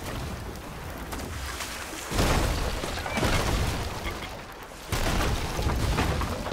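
Deep booming ship cannon blasts in a video game go off a few times over a steady rumble of water and wind, with crashing impacts mixed in.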